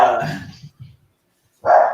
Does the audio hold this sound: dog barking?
yes